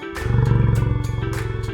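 Cartoon dinosaur roar, a loud, close, growling sustained bellow with a pulsing, rumbling texture that holds for nearly two seconds.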